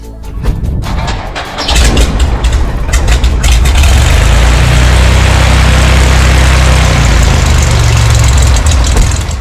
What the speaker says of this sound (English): Let's go start up the airplane and get going.